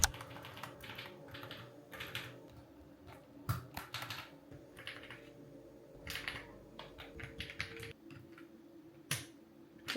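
Keycaps being fitted onto a custom pumpkin-themed mechanical keyboard: quiet, irregular clicks and plastic taps in scattered bursts, close by and faint, with no talk.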